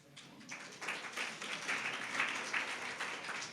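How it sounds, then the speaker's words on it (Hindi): Soft, continuous applause from an audience at a marriage workshop for a second-prize winner, a faint wash of clapping that swells slightly and carries on throughout. "खूब तालियों के साथ इनकी हौसला अफजाई कीजिए"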